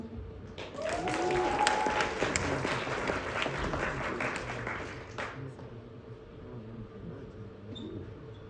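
An audience applauds to welcome a speaker to the stage at a talk, dense clapping that swells quickly, holds for several seconds, then fades out into a quiet room.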